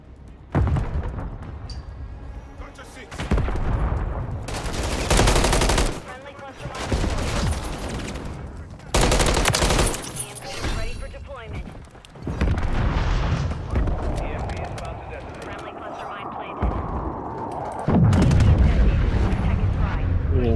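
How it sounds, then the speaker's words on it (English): Call of Duty MW3 gameplay brings loud bursts of gunfire and booming shots in several heavy clusters, with a player's voice talking over parts of the action. "you can hear him shooting at each other"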